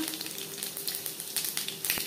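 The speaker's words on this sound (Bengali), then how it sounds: "কড়াইতে আবারও তেল দিয়েছি। দিয়ে দিলাম একটা তেজপাতা" Close, steady sizzling and spattering of a bay leaf frying in hot oil in a wok, with small crackles popping throughout.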